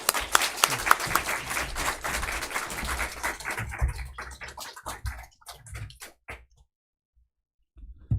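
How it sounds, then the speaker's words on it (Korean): A Sunday-morning church congregation claps to welcome a visiting guest pastor, dense clapping for about three seconds that thins into scattered claps and then falls silent. "박수 한번 쳐주시죠."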